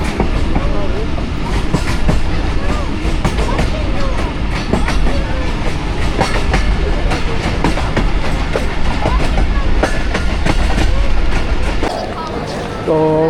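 Awam Express passenger train pulling into platform 5 at Lahore Junction: a loud, steady rumble of railcars with rhythmic wheel clatter that lasts throughout and eases slightly near the end.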